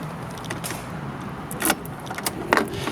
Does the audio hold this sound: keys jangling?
yes